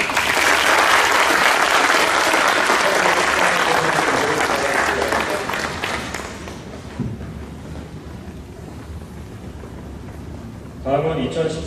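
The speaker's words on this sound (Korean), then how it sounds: "시장답게 다시 한번 큰 박수를 부탁드리겠습니다" Loud, sustained applause from the audience at a Nepes company New Year opening ceremony, filling the first six seconds before thinning to scattered claps, with a voice coming in at the end.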